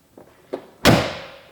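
Front door of a classic Porsche 911 swinging shut: two faint clicks from the latch and hinge, then one solid, loud slam with a low thud and a metallic ring that decays slowly.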